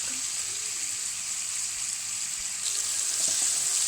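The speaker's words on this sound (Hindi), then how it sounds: "तो अब ये जब तक अच्छी तरह गल जाएंगे टमाटर तब तक इसको फ्राई करना है" Tomatoes frying in oil in a pan, a steady close hiss and sizzle that continues throughout and swells slightly toward the end, with faint clinks and no talking.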